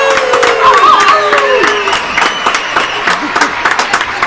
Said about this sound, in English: Oh, you can keep you can keep clapping.